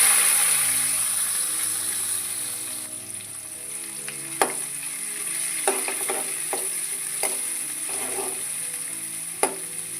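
Onions fry in oil with crushed garlic and ginger and mustard and cumin seeds while a spoon stirs the pan, a continuous close sizzle broken by sharp scraping clicks of the utensil against the pan.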